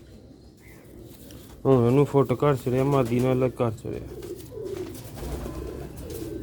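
Rooftop pigeons in Sialkot coo in a close, loud, rolling burst of several throaty calls, with someone speaking over and around them.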